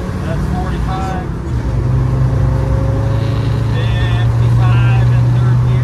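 A 1998 Land Rover Defender 90 TD5 pulls hard in third gear, its diesel engine droning steadily and rising in pitch as it speeds up, with road and wind noise around it and someone talking over it.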